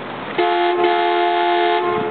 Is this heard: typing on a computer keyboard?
no